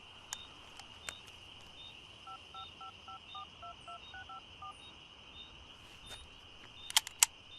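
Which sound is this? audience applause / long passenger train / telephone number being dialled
telephone number being dialled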